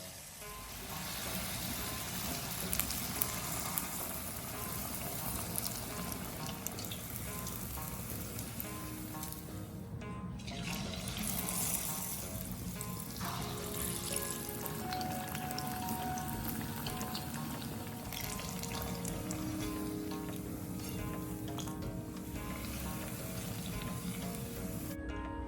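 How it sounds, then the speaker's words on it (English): Batter-dipped slices fry in coconut oil, giving a constant, fairly quiet crackling sizzle that runs without break, with faint clinks and shifts mixed in. "Dip each slice in the batter and fry in coconut oil or any"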